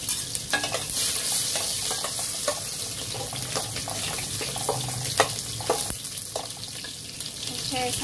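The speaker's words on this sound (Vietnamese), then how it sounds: "bây giờ mình sẽ bỏ ớt với tỏi vô mình xào nó lên" Chili and garlic are stir-fried in a pan, with a continuous loud hiss of frying and a busy clatter of stirring and scraping, close up and with no one speaking.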